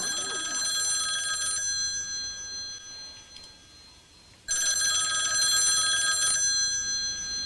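A telephone rings with two long bursts of bright electronic trilling separated by a quiet pause, loud and close, with no voices.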